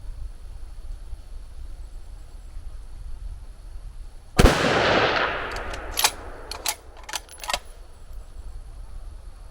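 A rifle fires a single loud, sharp shot during long-range shooting from a carbon-fiber tripod. A rolling echo trails the shot, then several crisp metallic clicks and handling knocks follow over quiet outdoor ambience.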